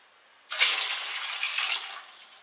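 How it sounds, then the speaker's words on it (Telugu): About one and a half litres of water is poured into a cooking pot for boiling rice, a sudden close gushing splash that runs for about a second and a half and then stops. "వాటర్ యాడ్ చేసుకోవాలండి"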